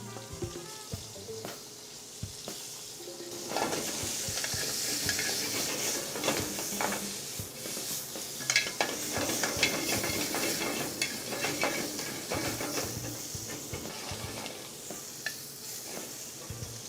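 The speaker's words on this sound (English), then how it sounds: "If you hear that sizzle," Food sizzles and hisses in a hot sauté pan with shrimp about to be cooked, a continuous crackling fry that swells midway with faint stirring, no talk.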